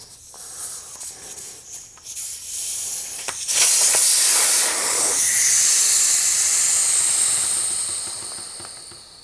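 Air rushes out of a Honda CRF300L motorcycle tire as it is deflated, a loud, steady, close hiss that starts abruptly after some faint handling noises and keeps going without a break.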